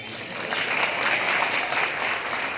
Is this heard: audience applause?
yes